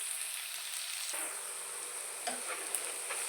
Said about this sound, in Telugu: ఉల్లిపాయలు బాగా ఫ్రై అవ్వాలి.